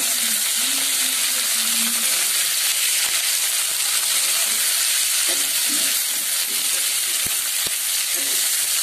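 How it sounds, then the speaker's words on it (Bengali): Capsicum stir-frying in a pan for vegetable fried rice, giving a steady close sizzle and hiss throughout with occasional stirring clinks and scrapes. "ক্যাপসিকামগুলো মিশিয়ে নিয়ে আরো 2 মিনিট ভেজে নেব"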